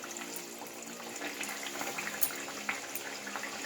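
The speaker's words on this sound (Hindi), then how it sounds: "अब इसमें हम कचौरियाँ डालते हैं। एक बार में 3 से 4 कचौरियाँ हम डालेंगे।" Peas-stuffed khasta kachoris frying in hot oil, a steady close hiss and bubbling sizzle with a few sharper pops, no talking.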